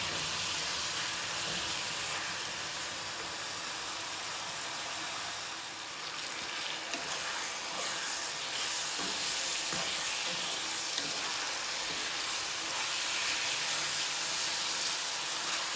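Ground beef sizzles and crackles steadily in a hot pan while being stirred, a continuous close frying hiss with occasional scraping, no voices.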